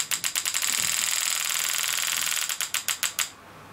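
Super EZ pneumatic graver firing at full power: a fast, hard, steady mechanical hammering that runs in a continuous rattling stream, then breaks into separate sharp strikes before stopping.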